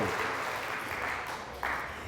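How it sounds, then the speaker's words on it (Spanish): Congregation applauding in a church service, a steady dense wash of clapping that carries on throughout, with a brief louder swell near the end. "Fuertes aplausos al Rey de Reyes y Señor de Señores"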